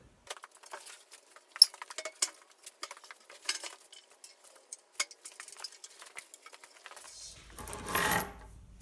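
Steel lag bolts, 5/16 by 1.5 inch, meant for fixing steel legs to a reclaimed barn-wood table, clink and jingle in short, scattered metallic taps as they are handled, close and fairly quiet, ending in a brief louder rustle.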